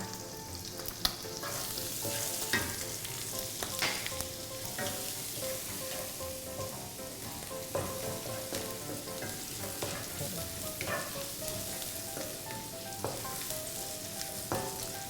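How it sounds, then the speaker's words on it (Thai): Steady crackling sizzle of minced Thai garlic frying in hot oil in a wok until golden, continuous and close, with occasional clinks and stirring sounds. "เอากระเทียมไทยนะคะที่สับไว้ค่ะ ลงไปเจียวให้เหลืองนะคะ"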